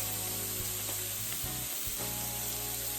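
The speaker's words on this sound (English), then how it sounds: "we just want to brown them up on each side" Scallops searing in a hot pan for scallop ravioli, a steady loud hiss of sizzling oil with a few faint utensil taps, close and continuous.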